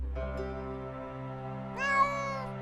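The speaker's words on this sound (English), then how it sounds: "Don't you meow at me." A cat meows once, a rising drawn-out call heard close and clear over a steady low hum of background music.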